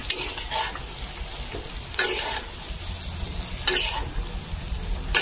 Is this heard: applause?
no